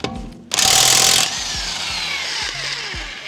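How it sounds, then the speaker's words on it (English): An impact gun removing a wheel lug nut, powered from a Segway Cube 1000 portable power station: one loud, sustained buzzing burst of about a second, then a lower whirring tail with repeated short low thumps, close by. "help you use an impact gun to take off your lug nuts in your wheel"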